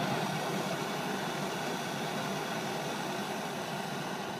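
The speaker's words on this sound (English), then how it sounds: "We're going to light our torch by turning the gas on." A gas torch set up for firing bronze clay gives a steady, even roaring hiss that holds at a constant level throughout, with no voices over it.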